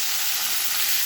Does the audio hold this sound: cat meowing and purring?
no